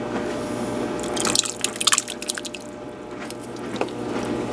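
Canned diced tomatoes tipped from a 15-ounce can into a cooking pot, a brief wet glugging slosh and splatter over a low kitchen hum, with no talking.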